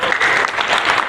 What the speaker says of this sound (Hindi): ताली भी बजाइए कि नहीं?